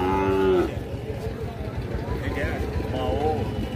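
A cow moos at a thinning cattle market near the end of the day, a drawn-out low call at the start and again near the end, with people talking and crowd murmur throughout.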